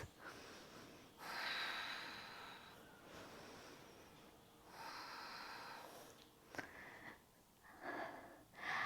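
Deep, audible breathing during a bound lizard yoga pose, close and breathy: long drawn inhales and forceful exhales in slow repeated cycles, with a sharp snort-like breath near the end.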